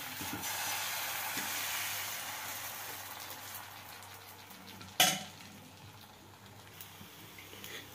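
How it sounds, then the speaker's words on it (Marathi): Ragi dosa batter spread on a hot griddle gives a soft, steady sizzle that fades gradually. A single sharp metallic clink of a utensil cuts in midway. "आपण जसे उत्तापे टाकतो अगदी त्याचप्रमाणे हे पण पीठ तव्यावर टाकून घ्यायचं"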